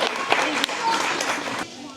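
Audience applause rises as a dense, steady wash of hand claps at an animal show, holding loud for most of the stretch before dropping off suddenly near the end, with a voice over it.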